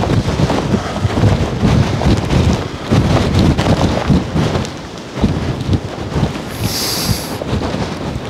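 Strong storm wind gusts buffet small backpacking tents outdoors, the fabric flapping and roaring loudly throughout with surges and lulls. Rain-like noise runs continuously, with no speech.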